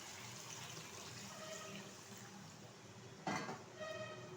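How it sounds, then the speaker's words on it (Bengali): Water poured into chicken curry cooking with potatoes in a pan, a steady broadband pouring and splashing wash that runs continuously, with a brief brighter splash near the end. "এখন এর মধ্যে দিয়ে দেবো পরিমাণ মতো জল।"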